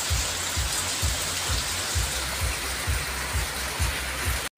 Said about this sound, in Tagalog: Ulan. Ulan guys, oh. Hindi makagala.